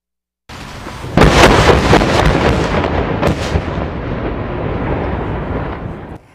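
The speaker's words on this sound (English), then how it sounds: "A controlled explosion brought down what remained of a historic bridge" A heavy explosive boom from the controlled demolition of the old I-74 suspension bridge between Iowa and Illinois, followed by a long rumbling roar of collapsing cables, towers and debris that slowly fades over several seconds.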